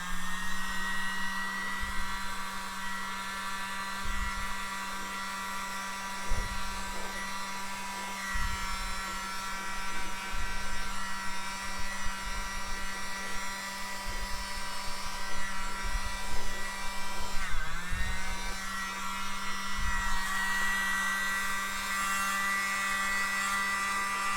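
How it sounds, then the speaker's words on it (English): A small handheld mini blower runs steadily for the whole stretch, a constant whirring motor with a high airy hiss, briefly dipping in pitch once as the airflow shifts, close and alone without talk. "So I'm going to satisfy myself with just using the mini blower here."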